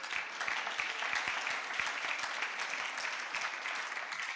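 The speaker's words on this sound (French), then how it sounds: "Est-ce qu'on peut acclamer la parole?" A church congregation applauding, a steady dense clapping held at an even level throughout, close and full with no speech over it.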